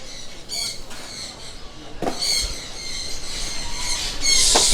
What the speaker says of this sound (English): this section where there's a lot of birds and animals. We've got chickens, parakeets.